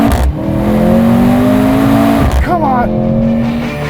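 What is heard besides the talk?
Mercedes-AMG GLC 43 launch acceleration in sport mode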